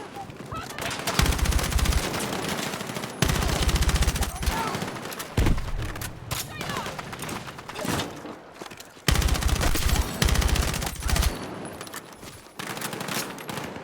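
Sustained video-game gunfire rattles in long automatic bursts and scattered shots, loud and close. It comes in repeated waves with short pauses between them.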